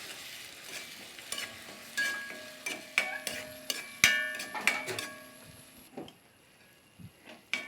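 Kadala curry with crushed tomato and coconut stirred in a pan, a spoon scraping and clinking against the metal in irregular strokes over a soft sizzle, close and alone.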